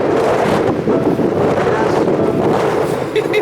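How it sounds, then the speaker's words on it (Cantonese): Strong wind roars and buffets the microphone without pause, a loud, rough rush throughout, with people's voices mixed in beneath it. "哇，好大風啊，頂唔住啦！"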